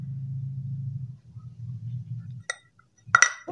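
A spoon clinks against a bowl while coffee and honey are stirred into a homemade face pack, a few sharp bright taps near the end after a low rumbling stretch.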